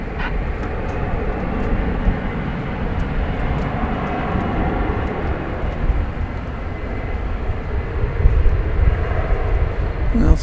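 A jet airliner rolls down the runway and takes off from DFW Airport at night on a departure to Istanbul, its engines a loud, steady broadband roar that swells slightly toward the end.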